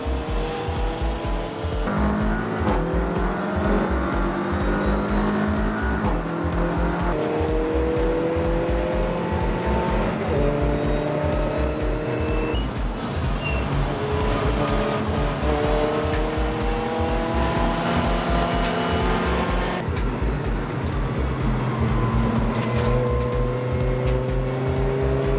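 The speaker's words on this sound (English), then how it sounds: "See the red lights go out and racing gets underway then." Race cars in a two-hour club enduro pulling away at the start, a dense steady roar of many engines revving and shifting up together, loud and continuous throughout.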